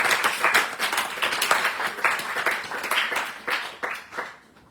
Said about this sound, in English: big clap for the host